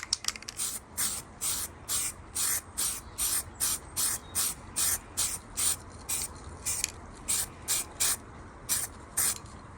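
Rapid repeated short bursts of a spray gun or aerosol laying primer undercoat on the underside, edges and small screws of a workpiece, a steady hissing pulse of about two bursts per second, close and loud with no talk.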